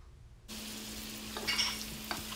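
Seasoned potatoes with butter, chili and garlic powder being stirred in a hot pan, a steady quiet sizzle with soft scraping of the spoon.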